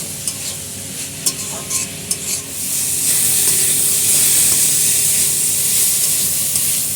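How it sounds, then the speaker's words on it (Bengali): Mixed vegetable sandwich filling with salt and sugar stirred in a hot pan: a few sharp scraping clicks at first, then a loud, steady hissing sizzle up close. "দিয়ে এবার এটাকে আমরা ভালো করে একটু নেড়ে নেব।"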